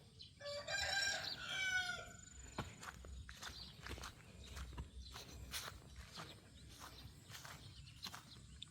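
A rooster crows loudly near the start on a rural farm plot, while chickens scratch around with rustling, repeated scuffing sounds and soft footfalls on leaves and ground.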